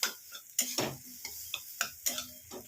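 An ingredient for tomato and jujube chutney frying in a pan makes a faint background sizzle, broken by regular, rhythmic scrapes and taps of a spatula stirring close by, with no voices.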